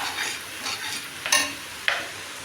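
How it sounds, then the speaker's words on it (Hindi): Chole masala frying in a pan while being stirred, a soft steady sizzle broken by a few brief scraping strokes of the spoon, close by, with no voices. "मैं छोले का मसाला बना रहा हूँ"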